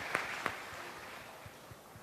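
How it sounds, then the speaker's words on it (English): Faint applause from an audience at a university math fair, a soft, diffuse wash of clapping with a couple of sharper claps near the start, heard from a distance. "we give a round of applause to both teams"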